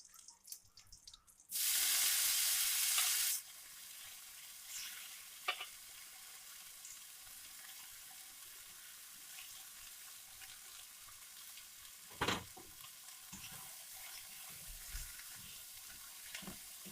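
Mashed sour tenga hits a hot pan with a loud burst of sizzling lasting a couple of seconds, then settles into a softer steady frying hiss with occasional stirring clinks and scrapes; no talk.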